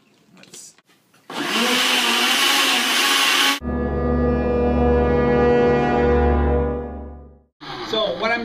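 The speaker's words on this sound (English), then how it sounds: "pretty much I'm just blending it" A blender chops red cabbage leaves with water, starting with a loud harsh grinding burst, then settling into a steady high whine that slows and stops, with brief talk before and after.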